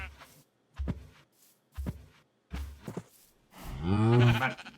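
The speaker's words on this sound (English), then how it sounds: "we need to get a couple more cows" Cows mooing in the Minecraft video game, several short lowing calls spaced apart and then one longer drawn-out moo, close and fairly loud.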